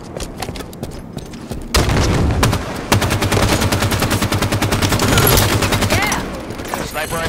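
Gunfire on a field where sniper rifles are in use, sparse shots at first, then dense rapid bursts of firing that continue loudly for several seconds, with speech faintly underneath.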